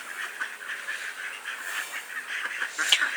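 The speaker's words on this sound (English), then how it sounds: "And here come the ducks." Ducks on historic house grounds quack and honk in a close, busy chorus of overlapping nasal calls that keeps going throughout.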